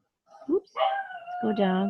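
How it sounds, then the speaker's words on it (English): A household dog gives a short whining, howling bark close by, mixed with a person talking over it. "That's my dog again."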